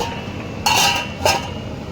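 A lid set onto a cooking pot of aloo matar paneer sprinkled with garam masala, two bright metallic clinks about half a second apart, close and clear over a quiet kitchen.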